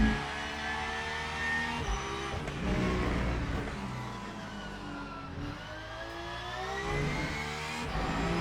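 A race car engine in the Le Mans Ultimate sim-racing game roars continuously, its pitch climbing and falling through gear changes as the car laps a new track. It is loud and steady, with no talk over it.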